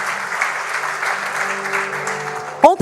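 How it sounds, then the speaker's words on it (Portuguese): A church congregation applauds together in a burst of steady clapping, dense and sustained for a few seconds, ending as a voice cuts in. "Vamos aplaudir a Jesus pela vida dos nossos voluntários?"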